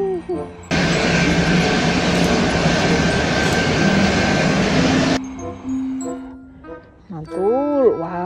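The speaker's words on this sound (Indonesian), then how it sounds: "wow, ada pesawat kecil juga nih teman-teman" A small airplane, a five-passenger plane, roars steadily and loudly for several seconds before the engine noise cuts off, leaving quieter background sounds and a rising-falling whine.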